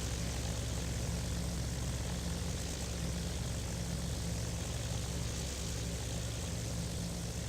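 A WWII Spitfire fighter's piston engine taxiing in Flight Simulator X, a steady, dense propeller drone holding at an even level throughout, close and continuous with no talk.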